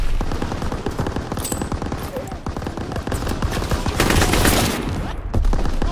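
Sustained automatic and rifle gunfire in a Call of Duty WWII battle, dense rapid bursts and overlapping shots throughout, loud and continuous with heavier volleys near the end.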